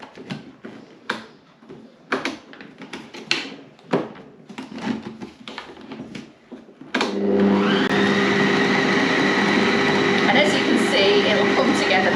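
An old mixing machine switched on high churns pastry dough for a Bakewell tart. Irregular clanks and handling knocks come first, then a loud, steady whirring drone starts abruptly and holds to the end.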